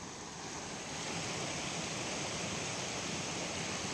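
Harpers Creek on the Appalachian Trail, a steady broadband rush of flowing water, close and continuous, rising slightly after the first second, with no voices.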